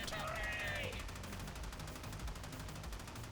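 Rapid automatic gunfire in a sci-fi shooter game, a fast steady stream of shots rattling continuously throughout, with a brief whistling tone near the start.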